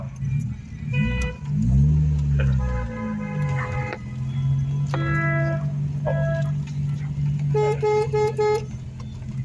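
A classic MG car horn honks in short repeated blasts over a steady low engine rumble, loud and close, with a brief vehicle rev near the start, at a vintage and country fair.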